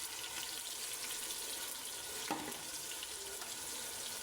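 Tomatoes and green chillies fry in masala with red chilli, salt and turmeric for masoor dal with ridge gourd, a faint steady sizzle with a brief clink midway, no voices.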